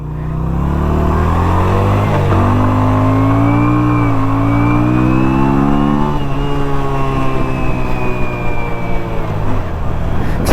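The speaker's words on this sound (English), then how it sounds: "it's a very tame motorcycle" A Yamaha V Star 250 motorcycle engine drones steadily while riding, its tone rising and falling slightly through a smooth, continuous, loud hum, with wind rush and no one speaking.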